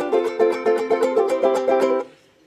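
Ukuleles strummed nonstop by a group of players, a rapid, even run of chord strums about eight per second, close and bright, stopping abruptly and leaving a short fading ring.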